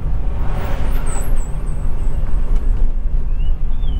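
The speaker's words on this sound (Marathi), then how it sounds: "गाड्यांचे कंटेनर आहेत" Container trucks rumble past on the NH166 national highway between Amba and Malkapur, a continuous loud low roar of passing heavy vehicles with brief high squeals, no voices.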